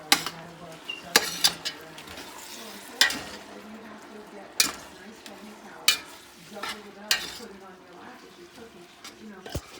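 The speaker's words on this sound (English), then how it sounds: "he is cooking down the escarole on top of the garlic" Escarole being stirred and cooked down on a heap of garlic in a big soup pot, with soft sizzling under repeated sharp clinks and scrapes of a spoon against the pot at irregular intervals.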